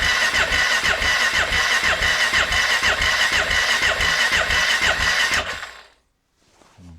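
A Husqvarna TE610E motorcycle engine cranking slowly with the starter, a close, loud, steady rhythmic churning that turns over for several seconds without catching, then cuts to silence.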